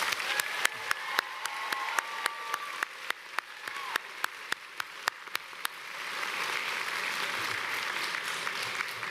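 Graduates at a spring convocation ceremony applaud faculty and staff, first with sharp, scattered claps, then a fuller, sustained wave of crowd applause that swells in the second half.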